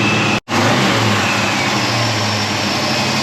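A classic Chevy engine revs while driving, a loud, steady low rumble that cuts out for an instant near the start and then resumes strongly, with no talking.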